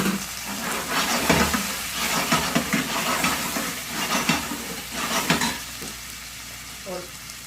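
Chicken sizzling and frying in a pan with garlic browned to a light golden colour, with steady crackling hiss and repeated stirring scrapes close up, with no talk.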